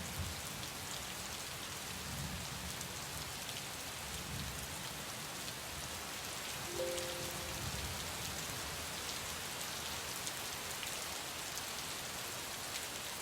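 Heavy monsoon rain pours down steadily on Delhi at night, a dense, unbroken hiss of downpour with faint low rumbles beneath it and no voices.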